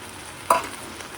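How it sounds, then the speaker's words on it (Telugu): Dry small prawns fry in a pan with a soft, steady sizzle, broken by one brief clack of a utensil partway through. "ఇప్పుడు ఈ రొయ్య పొట్టు అన్నది వేపుతాము."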